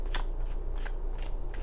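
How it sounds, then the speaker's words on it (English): Tarot cards are shuffled by hand in several quick riffling bursts with brief pauses between them, close and crisp over a low steady background hum. "Let's do a couple more shuffles."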